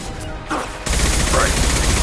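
Impact shot power firing with heavy gunfire in the Mass Effect 2 video game: a brief muted burst, then a dense, loud, continuous barrage of shots and blasts.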